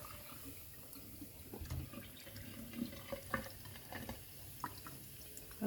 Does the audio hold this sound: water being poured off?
yes